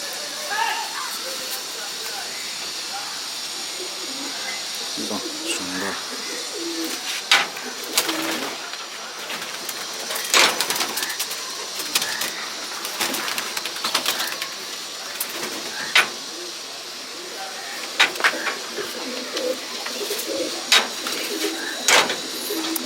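Pigeons coo in a loft of female pigeons, soft repeated calls rising at intervals over a steady hiss, with a voice talking now and then.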